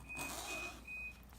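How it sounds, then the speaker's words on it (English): Household washing machine running in the background, giving a steady low rumble with a thin, sustained electronic beep tone that repeats several times at moderate, fairly faint level, without any talking. "Sorry about all the beeping and the rumbling in the background, guys."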